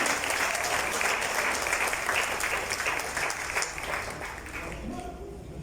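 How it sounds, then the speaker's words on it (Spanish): Audience applause for Marcos Medina at an artisan runway show, a dense, steady clapping crowd that fills the whole stretch and slowly eases off toward the end. "Hay que brindarle un fuerte aplauso a Marcos Medina"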